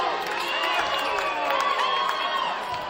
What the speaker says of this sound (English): The crowd clearly does not agree with that call.